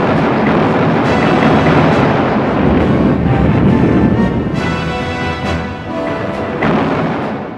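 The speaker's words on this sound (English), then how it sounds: "At 5:30 a.m. on the morning of the 6th of June, the warships opened fire on the coast ahead." Naval bombardment as warships open fire on the coast at dawn on D-Day, a loud, continuous rumbling roar of heavy gunfire and blasts that eases slightly toward the end.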